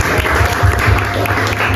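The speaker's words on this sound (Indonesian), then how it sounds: "tepuk tangan sekali lagi." Applause from a small audience at an afternoon book discussion, loud and close, a dense, even patter of clapping that continues without a break and with no voices over it.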